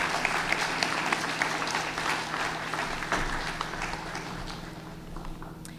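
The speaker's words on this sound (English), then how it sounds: "Let's give him a warm round of applause as he makes his way to the stage" A crowd applauds at a DC Mayor's AAPI Heritage Month celebration as an honoree from a grocers association walks to the stage, a steady sustained clapping that fades slightly toward the end.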